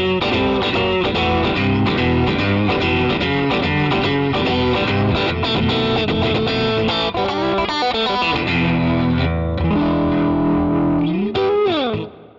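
Electric guitar played through a NUX MG300 multi-effects pedal on a light crunch tone, strumming chords and picking melodic lines in a steady rhythm, close and clear, with no one talking until it cuts off at the end.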